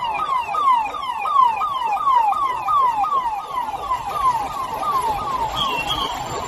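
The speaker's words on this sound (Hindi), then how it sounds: "इस तरह से सायरन बज रहा है।" A siren from a police escort convoy in Deoband, India sounds continuously in a fast, repeating yelp of quick sweeping tones, loud and steady over faint street noise.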